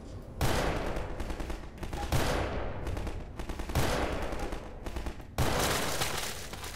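Video game gunfire in Garry's Mod: loud, rapid automatic bursts in several long strings with short gaps between them, close and dominant with no talking.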